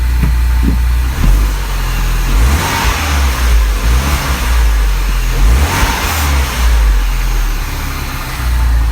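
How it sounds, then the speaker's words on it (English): A Mini Cooper S engine idles, then is revved a couple of times, with loud low rumbling and surging bursts heard up close. "We'll rev it a couple times."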